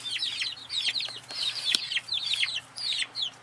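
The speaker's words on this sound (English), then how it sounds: "Grandpa's letting me know I gotta bring the little chicks inside" Small chicks peeping in quick, repeated high chirping bursts with some soft clucking, fairly close and continuous over a low steady hum.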